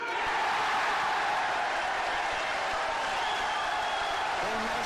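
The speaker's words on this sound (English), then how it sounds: "Joe Johnson defeats Steve Davis 18 frames to 12 as the capacity crowd go completely mad" A capacity crowd at the Crucible roars and applauds without pause at the end of a world snooker final in which Joe Johnson beats Steve Davis 18 frames to 12, a dense, continuous wall of noise.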